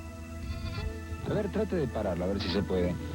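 Sheep bleat over a low steady rumble in a field of ash-covered flock, several wavering cries overlapping at close range.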